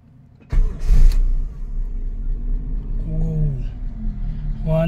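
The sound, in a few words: Toyota Corolla engine starting without the gas pedal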